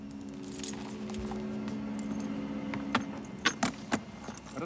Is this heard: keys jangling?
yes